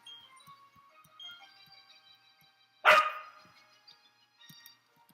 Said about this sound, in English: The dogs want to go out. Can you guys stop barking at me?